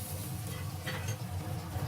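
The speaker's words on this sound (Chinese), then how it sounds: "倒入蒜末炒香" Minced garlic stir-fried in a wok with dried chilies for sour and spicy shredded potatoes, a soft steady sizzle with faint scraping, quiet and continuous.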